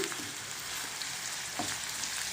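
Chopped onion fries in hot oil in a pan for a prawn tomato curry, a loud continuous sizzle close by, with a few soft scrapes of stirring and no talking.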